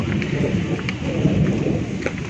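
Heavy rain pours steadily at Pha Daen cave in Sakon Nakhon, Thailand, while low thunder rumbles continuously underneath, with scattered drops tapping nearby.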